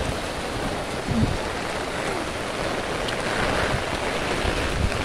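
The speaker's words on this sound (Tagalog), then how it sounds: "Ang lakas ng ulan" Heavy rain and strong wind make a loud, steady roar with gusty rushing close to the microphone, as a storm pours down on a street.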